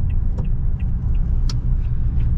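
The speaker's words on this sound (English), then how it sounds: "I'm driving a big lifted truck" A lifted Toyota Tundra TRD pickup truck drives along a road, giving a steady low engine and road rumble throughout, with a few faint higher ticks above it and no talking.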